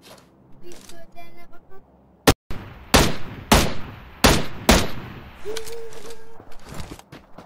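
Gunfire in the battle royale game PUBG Lite during a solo third-person match: about five sharp, loud shots come at uneven intervals, with a voice talking between them.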